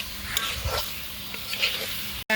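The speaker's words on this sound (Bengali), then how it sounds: "মশলার মধ্যে আমি কষিয়ে নেব" Fried vegetables being sautéed in spice masala in a pan, a close, steady sizzle with a few scraping stirs, ending in a brief sharp clatter.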